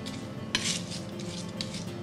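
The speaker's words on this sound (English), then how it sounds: "And just back of the knife, fingers on top, and just rub it against the board." The back of a knife scrapes crushed garlic against a cutting board, producing soft, close scraping and rubbing strokes with a couple of sharper knocks, no voices.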